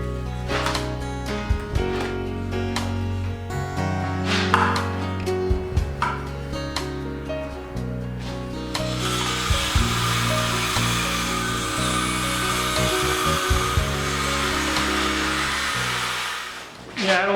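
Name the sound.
MAXIMUM 20V brushless saw cutting wood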